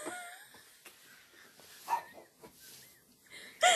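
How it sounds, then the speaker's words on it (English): A dog yips and barks intermittently in a room, faint and scattered, with a sharper yelp at the end; no speech over it. "You're making the dog bark."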